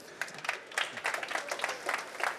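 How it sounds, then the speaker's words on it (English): A live audience at a quantum-computing panel at a trade fair applauds, a modest patter of clapping hands that stays fairly soft and even throughout. "please give him a big round of applause"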